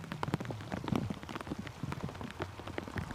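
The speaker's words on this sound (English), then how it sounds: "Not till the rain goes." Rain falling at Newcastle airport, a dense patter of drops striking a nearby surface with sharp irregular ticks and splashes over a continuous wet hiss, close and fairly loud, with no talking.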